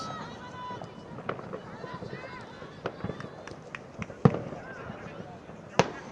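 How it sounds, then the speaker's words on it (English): Loud fireworks bursting close by at a university football match between Salford and Liverpool Hope, several sharp cracks and bangs at irregular intervals over a busy background of crowd noise and talk. "This is terrifying, the amount of volume of these fireworks, which are so close."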